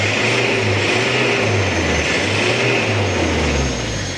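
The diesel engine of a Toyota Kijang, which has a radiator coolant overflow fault, drones loudly and steadily up close with a low rumbling hum and a slight rise and fall in pitch, and no voices.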